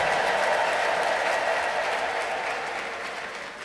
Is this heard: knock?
no